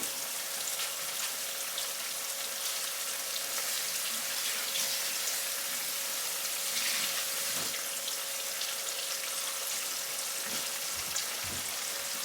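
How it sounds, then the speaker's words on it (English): Juice from defrosted chicken poured off while making baked ranch chicken, a steady, continuous watery pouring hiss that runs unbroken throughout at close range, with no talking. "I'm going to pour some of this juice off where it's defrosted."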